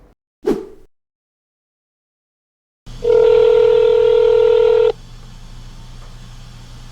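Steady tone beeps from a phone being dialed to call a restaurant hotline, loud and close, after a brief soft knock and a pause. A quieter hum continues once the tone stops.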